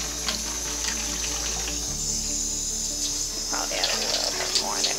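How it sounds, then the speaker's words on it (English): Water runs from a tap into a container to froth up dog shampoo during a home dog bath, a steady close splashing stream that shifts slightly in pitch as it flows. "I'm going to add a little bit of water, approximately"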